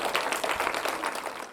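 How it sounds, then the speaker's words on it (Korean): A church congregation claps together in praise, a dense burst of applause that holds steady for a moment, close and fairly loud. "영광의 박수를 올리도록 하겠습니다."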